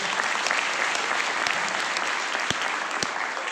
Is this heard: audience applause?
yes